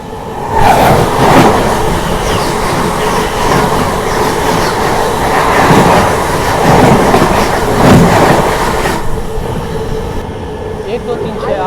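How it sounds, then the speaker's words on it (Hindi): The New Delhi–Gaya Mahabodhi Express approaches with a steady, loud rumble and rhythmic clatter of wheels over rail joints, growing fuller throughout before easing slightly near the end. "नई दिल्ली गया महाबोधि एक्सप्रेस सामने से आ रही है"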